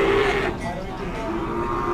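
A Limousin cow at the Wagenan livestock market in Pati gives a single loud, drawn-out moo up close, against a low market hubbub.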